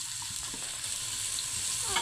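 Onions frying in a little oil in a pan, a constant close sizzle with soft stirring clicks and scrapes, no one talking.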